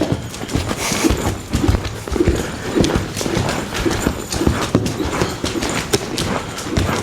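A horse cantering around during racquet training, hooves drumming in a steady rolling three-beat rhythm on the ground, close and clear, with faint ambient noise and no talking.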